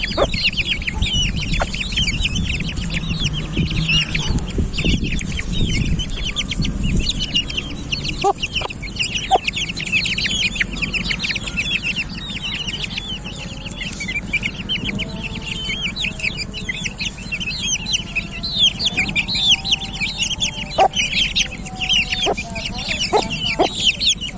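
Aseel hens cluck steadily alongside high, peeping chicks about 1.5 months old in a busy yard, with a rooster-like call now and then and constant soft background noise.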